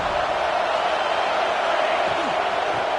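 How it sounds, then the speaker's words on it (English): Football stadium crowd noise: a steady, broad roar from a large crowd that holds without a break, with a voice faintly audible over it. "This crowd ready to make its presence known."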